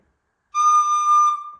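A single high, pure tone from a recorder begins after a short silence and holds steady for about a second, clear and whistle-like, fading slightly at the end.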